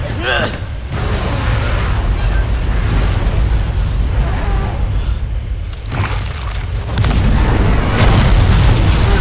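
A loud, deep explosion booms in Resident Evil 2 Remake, rumbling on amid heavy game noise while voices talk over it throughout.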